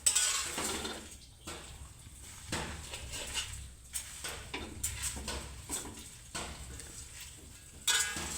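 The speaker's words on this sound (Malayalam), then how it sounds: "ഇത്രയും മുരിങ്ങയുടെ ഇലയും കൂടി ഇട്ട് കൊടുത്തിട്ടുണ്ട്. ഇനി നമുക്കിത് അടുപ്പിൽ വെച്ച് വറുത്തെടുക്കാം." Drumstick leaves and curry leaves are dry-roasted in a pan on the stove, with a utensil scraping and stirring in repeated soft strokes against a faint, steady background. No one speaks.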